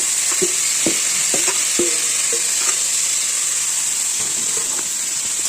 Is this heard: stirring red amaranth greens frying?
yes